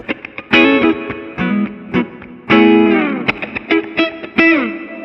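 Patrick James Eggle Macon electric guitar playing bright, plucked notes and chords with a lush, washy reverb and chorus, some notes ringing out and bending.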